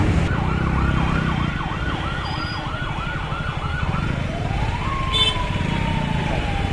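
An ambulance siren wails through heavy traffic as cattle head home after a manjuvirattu bull-taming event, its rising and falling tone loud and close before shifting to a long sweeping note over steady road noise.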